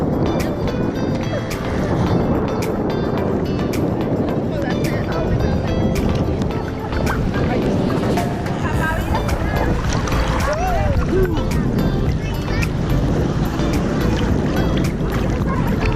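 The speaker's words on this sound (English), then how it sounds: "you got the jet ski pulling right up" A jet ski pulls up close at a Grand Cayman beach, its engine droning steadily amid constant wind rush and surf noise, with people talking nearby.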